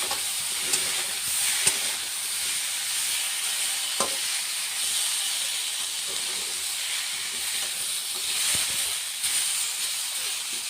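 Pieces of bowal fish fry with broccoli and potato in a pan, sending up a constant loud hissing sizzle with a few sharp spatters and clicks throughout.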